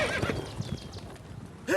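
Horse galloping with hoofbeat clip-clops and a sharp neigh in The Witcher 3 video game, a quick burst of hooves followed by a loud whinny near the end.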